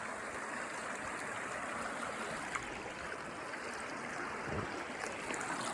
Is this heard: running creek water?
yes